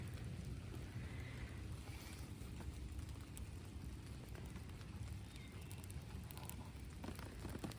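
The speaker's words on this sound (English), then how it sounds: "I can hear that rain starting to come down harder." Steady rain pouring outdoors in a garden, a dense continuous hiss of drops on surfaces with some wind rumble, holding even and fairly close throughout with no talk.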